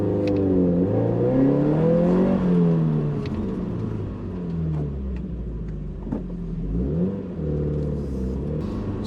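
A Toyota GT86 revs hard in reverse with wheel spin on a very slippery Silverstone track, its engine note sweeping up and down in loud, close, wavering surges of rising and falling pitch.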